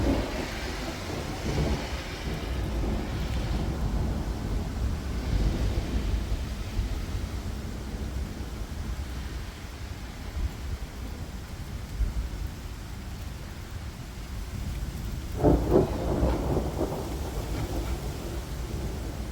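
A severe summer thunderstorm in west Edmonton, with steady rain hissing and low thunder rumbling in the distance, plus a louder burst of activity near the end.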